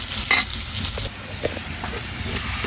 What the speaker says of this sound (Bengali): আর এদিকে পেঁয়াজ, মরিচ, রসুন কুচোগুলো দিয়েছি, এগুলা একটু বাদামি কালার হলে শাকটা আমি দিয়ে দেবো